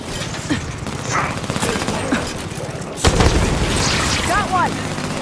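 Heavy gunfire and explosions rage in the Halo 5 single-player campaign, with rapid bursts, a sharp loud blast midway and chirpy energy-weapon sounds, while voices call out over the battle.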